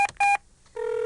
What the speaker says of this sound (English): Dialing up Mr. Alliteration, Kenny King, double K.